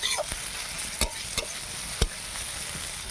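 Tomatoes and onions fry in a pan with cumin, turmeric and chilli powder while a spatula stirs them: a steady bright sizzle with several sharp knocks of the utensil against the pan, nearby, no talking.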